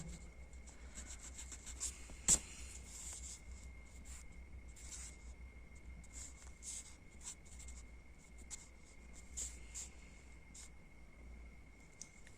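A pen scratches on paper in short strokes and pauses over several seconds while answers are written for a Hindi class exercise, quiet and close, with one sharp tap and no talking.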